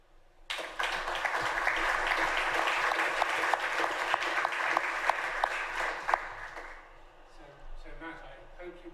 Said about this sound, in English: So Matt, I hope you could hear the warmth of that applause.